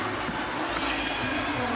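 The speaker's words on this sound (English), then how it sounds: "the crowd is cheering for her" A crowd roars continuously for a three-point shooter at a college 3-point championship in Indianapolis, a dense, sustained wash of cheering.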